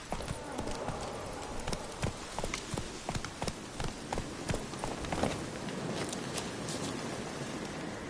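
Horse hooves gallop in The Witcher 3, a steady clip-clop rhythm running throughout over a rain-like hiss of outdoor ambience, moderately loud and close.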